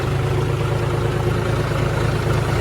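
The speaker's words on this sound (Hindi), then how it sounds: "महेंद्र भाई का ट्रैक्टर बहुत ज्यादा धुआं फेंक रहा है, क्योंकि उन्होंने रेस खोल रखी है ट्रैक्टर की" A Mahindra 585 tractor engine throbs near a river, a steady low rhythmic chug at idle, loud and close, with no voices over it.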